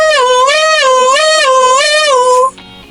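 A wailing fire truck siren sweeps up and down in a steady repeating cycle, loud and close, then stops abruptly; it may be a voice or toy imitating it.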